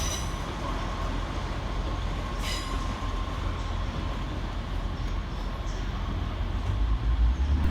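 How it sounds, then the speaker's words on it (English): A Northern class 150 diesel unit departing Manchester Piccadilly on the far side of the station: steady rumbling train noise throughout, with a faint squeal, growing slightly louder toward the end. "Departing over on the far side is 150-142. Departing with 1650 northern service to Rosehill Marple."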